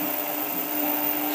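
A refurbished New Hermes Vanguard 4000 engraving machine spinning a diamond drag bit while engraving a plaque, producing a steady, loud, close high-pitched whine with an even motor drone throughout.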